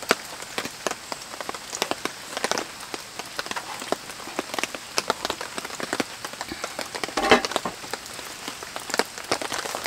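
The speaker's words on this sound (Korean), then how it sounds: "뭘 비 오는 풍경이라고 찍어서 보여드릴게." Steady rain falling at night around a small car at a campsite, a dense patter of drops tapping on surfaces with scattered sharper hits, close and continuous, with no voices.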